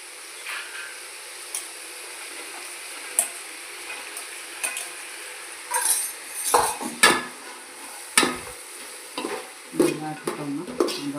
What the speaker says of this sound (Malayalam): ഇതാക്കിയിട്ടൊന്ന് നല്ലോണം ഇളക്കി കൊടുക്കാം.